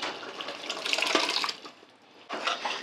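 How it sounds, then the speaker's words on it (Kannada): Water left from boiling dal is poured into a pot of drumstick sambar. It makes a close, steady gushing pour for about one and a half seconds, a brief lull, then a second strong pour, with no voices. "ಇವಾಗ ಬೇಳೆ ಬೇಯಿಸಿದಾಕ್ತಾ ಇದ್ದೀನಿ."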